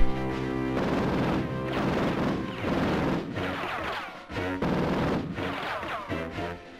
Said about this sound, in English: you can use the M60, the machine gun of the game